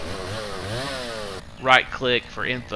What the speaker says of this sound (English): and we pull our chainsaw out